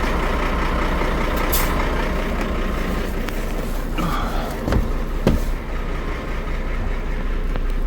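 Truck engine idling and rumbling as it maneuvers onto a bin in wet weather, a steady low drone with a few sharp hiss bursts and knocks, no talk.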